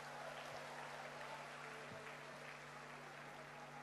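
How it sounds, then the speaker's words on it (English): Audience applause at a women's conference in Nigeria, a dense, steady wash of clapping from a large crowd filling the space evenly throughout, with a faint hum beneath and no talking over it. "Please give yourself a round of applause."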